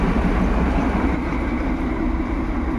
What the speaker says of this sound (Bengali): দেখতে পাচ্ছেন টয় ট্রেন আসছে দার্জিলিং থেকে।